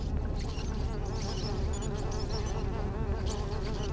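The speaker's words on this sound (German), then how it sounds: "Da ist es eine Mücke." In the video game Beyond Good & Evil, a mosquito buzzes continuously and close, a thin droning whine over dense game ambience with no speech.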